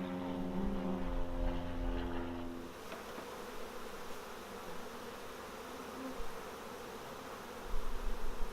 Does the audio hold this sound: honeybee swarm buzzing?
yes